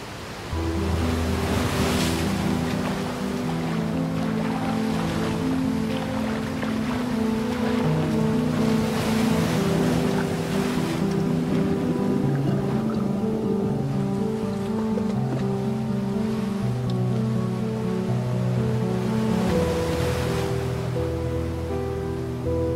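Waves wash steadily at sea off Gaza while a boat engine hums underneath. The loud, continuous surf has periodic swells, and no voices can be heard.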